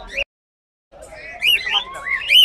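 Assorted caged birds at a bird market chirping and squawking in bright, overlapping calls that swell after a short gap, with brief voice-like sound at the start.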